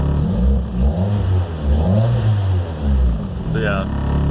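A running car engine close by, rising and falling as it revs, with a person talking over it.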